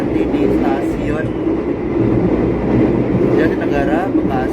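A Tambahan GMR passenger train bound for Yogyakarta rolls along the rails with a steady, loud rumble and faint rhythmic wheel noise, while people talk throughout.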